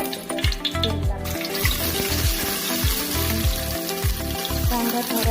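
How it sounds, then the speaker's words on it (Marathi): Chopped onion fries in hot oil in a pan for a spicy Maharashtrian black-masala chicken, a loud steady sizzle broken by repeated rhythmic scrapes of a spoon stirring close up. "कांदा आणि खोबरं परतून घ्यायचं आपल्याला आधी."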